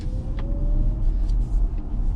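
An Audi e-tron electric car pulls away under acceleration, a steady low road rumble with a faint thin rising whine running through it, heard from inside and continuous for a couple of seconds without talk.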